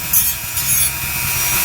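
A blade shaves a plastic part from a 1967 Camaro AMT 1:25 scale model car kit in short, close scraping strokes, a quiet rasping rub with no talking.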